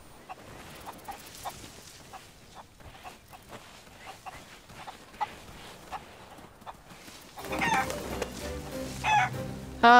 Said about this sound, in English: You scared my chicken away.